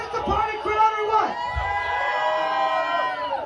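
A concert crowd at a live tribute show in Nashville, Tennessee, roars and whoops in a sustained swell, with loud shouting voices layered over the cheering.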